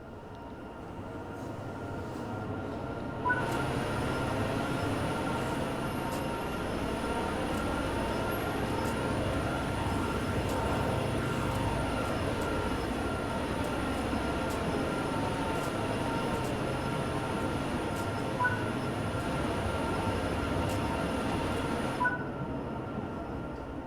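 A steady rumbling SD70ACE 4,300-horsepower diesel locomotive in Train Sim World 4, with rhythmic clacking wheels running for a long stretch, a constant mechanical drone that cuts in and out abruptly.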